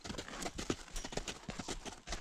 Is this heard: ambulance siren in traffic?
no